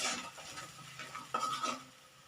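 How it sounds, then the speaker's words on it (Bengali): Chicken pieces are stirred in hot oil in a pan, giving soft scraping strokes with a faint sizzle underneath, close but quiet. "একটু নাড়াচাড়া করে দেবো তেলের মধ্যে।"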